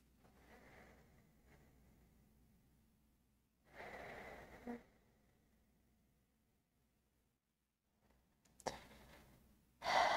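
Slow deep breaths during a yoga pose in a quiet room, with two soft breath bursts in the middle and louder, sharper breathing near the end, separated by near silence.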